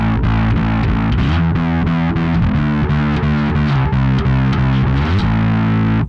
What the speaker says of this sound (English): So we'll just go back to the alpha distortion here.